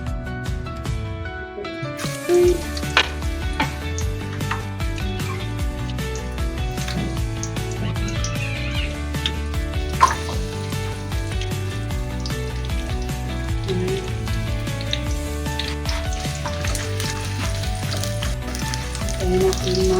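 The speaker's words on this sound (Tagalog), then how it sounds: "Gisa tayo sa ating lulutuin ngayon. Okay? Lagay na tayo ng ating sibuyas o tsaka ahos." Onion and garlic sauté in a pan with a continuous sizzle under steady tonal background sound, punctuated by an occasional stirring knock.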